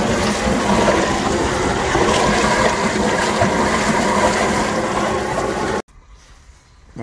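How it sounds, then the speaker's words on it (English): A pool pump runs while blowing out lines during pool closing, producing a loud, steady rush of pumped water and air that holds nearly constant, then cuts off abruptly near the end, leaving quiet. "you just heard my pump kick in"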